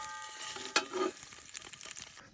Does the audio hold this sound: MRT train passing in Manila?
no